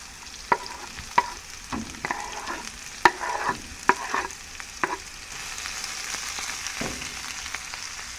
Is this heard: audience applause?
no